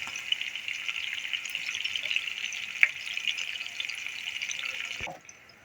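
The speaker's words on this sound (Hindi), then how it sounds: "ये अंडों को भी हम थोड़ा सा फ्राई कर लेते हैं। धीमे अच्छी तरह से।" Egg pieces frying gently on low heat in a pan while making black chickpeas, a soft continuous sizzle and hiss with a small pop midway, cut off abruptly near the end.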